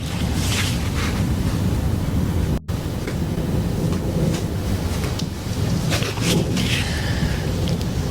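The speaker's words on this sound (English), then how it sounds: "I'm going to wash the veggies before I chop them up" Water runs steadily from a home kitchen tap in Auckland as vegetables are rinsed before chopping, a continuous loud rushing wash with a brief dropout partway through, and no talking.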